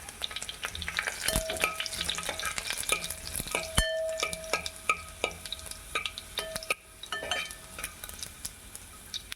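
Garlic pieces frying in a tempering for spiced buttermilk over lowered heat, a soft continuous sizzle with scattered crackles and pops and occasional clinks of a spoon against the pan, close and moderately quiet.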